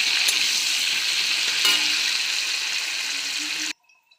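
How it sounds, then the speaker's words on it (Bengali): Cashews and raisins fry in hot ghee, a loud continuous sizzle with a couple of stirring clicks, cutting off abruptly near the end. "এখন কাজু আর কিশমিশটা ভেজে নেবো"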